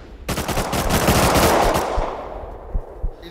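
Rapid automatic AK rifle fire in the survival game Rust, a loud sustained burst of shots that trails off into a few scattered single shots near the end.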